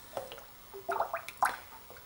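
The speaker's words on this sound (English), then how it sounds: "in goes the lovely distilled water" Distilled water pouring into a jar of raw oats, heard as a few short trickling, gurgling splashes in separate bursts, fairly quiet and close, with no voices.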